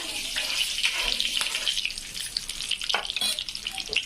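Curry leaves hit hot oil in a pan with a loud, steady sizzle and crackle, hissing continuously with a few sharper pops near the end.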